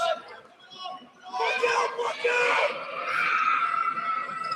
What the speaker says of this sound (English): Some of the youngsters in the crowd making some noise